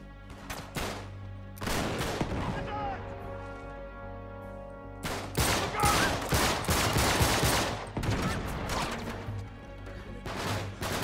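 Gunfire in the Uncharted 3 video game, with sniper shots mixed into dense bursts of gunfire and impacts that come in loud clusters, drop away briefly, then resume.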